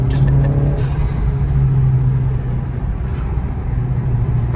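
Honda Civic Type R FK8 engine running steady and close, a low sustained drone with a slight lift early on but no clear revs or gear-change breaks.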